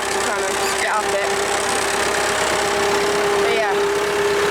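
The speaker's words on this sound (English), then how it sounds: "You can hear the tractor trying to get up it." A tractor engine, a 265, labours up a steep slope while rolling grass seed, a steady loud drone with a constant hum and rumbling vibration throughout.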